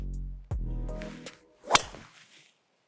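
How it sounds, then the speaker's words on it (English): A golf driver strikes the ball off the tee on a short par-4 hole, a single sharp, loud crack with a whooshing swing around it, heard close and alone. "But that was a hell of a drive, hell of a noise."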